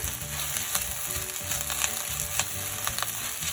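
Sabudana khichdi with coriander leaves is stirred in a pan, a low steady sizzle with a few light spatula taps and scrapes, close and unaccompanied by voices.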